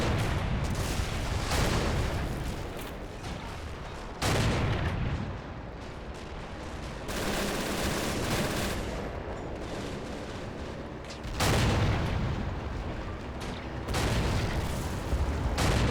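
Artillery and gunfire in the RobZ Realism Mod battle game, during a German supply convoy defense; loud repeated booming blasts and rolling gunfire in waves, dense and continuous.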